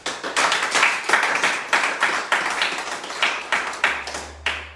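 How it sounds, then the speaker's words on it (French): A church congregation claps in a quick, steady rhythm, with many hands striking together loudly and close, in repeated bursts with no talk. "Est-ce qu'on peut acclamer pour la parole de Dieu?"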